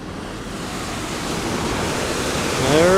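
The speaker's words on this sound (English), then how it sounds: "Flowing pretty good. A little bit of white water." River running with a little white water, heard as a steady broadband rush from nearby that swells slightly louder toward the end, with no talking.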